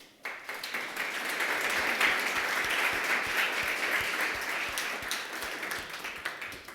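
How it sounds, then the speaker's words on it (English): Audience at the 1819 Venture Lab graduation breaks into sustained, dense applause that rises quickly, holds steady at moderate loudness and gradually thins toward the end, with no talking over it. "could we all give them a round of applause"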